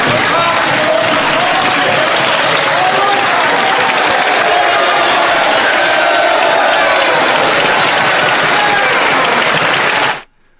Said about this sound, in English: They're having a clap war.